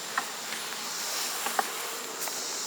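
Honey bees around beehive combs buzz in a steady, close hum, with a few sharper passes and ticks as individual bees fly near.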